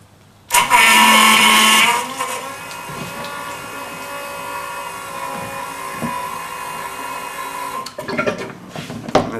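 A waste vegetable oil filtering and dewatering machine starts with a loud initial whir, then settles into a steady, droning motor hum with faint knocks and a rattling burst near the end.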